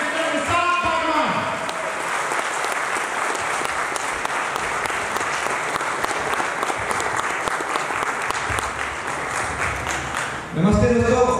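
An audience at a blockchain event in Raipur, Chhattisgarh gives a long, dense round of applause to welcome a speaker on stage, steady and loud before a voice cuts in at the end.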